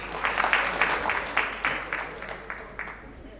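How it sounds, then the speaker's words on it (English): A small crowd at a National Assembly members' induction in a hotel claps for a few seconds, the applause swelling briefly and then thinning out. "Give her a clap as she takes the mic."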